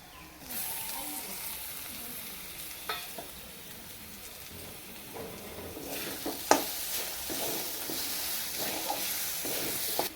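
Thin tomato slices sizzle and hiss in a hot pan of oil for a fish curry, with steady frying and occasional stirring scrapes and clinks, close and moderately loud.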